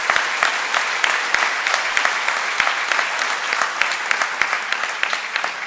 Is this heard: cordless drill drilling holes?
no